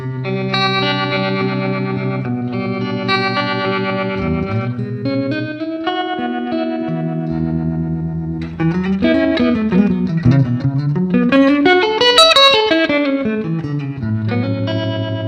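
Guitar tones pass through a Chase Bliss Audio Wombtone MKII phaser pedal set to a square wave, pitch warbling and sliding in fast, choppy steps with a buzzy, distorted edge, loud and without talk.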